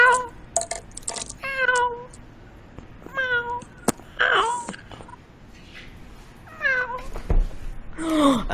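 A flat-faced cat meows repeatedly, several drawn-out, wailing cries spaced a second or two apart, with brief vocal sounds mixed in.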